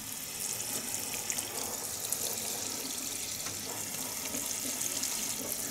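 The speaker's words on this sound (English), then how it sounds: "These are all getting a nice shower from the top." Water sprinkled from above over a shelf of potted Coryphantha cacti, a steady, close hiss of spray pattering onto soil and spines, continuous throughout with no talking.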